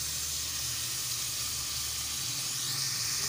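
Chopped tomatoes and green chili go into a pan of frying onions, giving a steady, close, loud sizzle and hiss throughout, with no talking.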